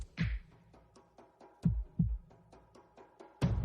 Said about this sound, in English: we got the heartbeat going